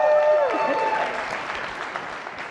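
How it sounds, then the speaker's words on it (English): Audience applause opening an education innovation showcase on a conference stage: a crowd claps loudly at first, then the clapping thins and fades, with a brief voice overlapping at the start. "Clap it up"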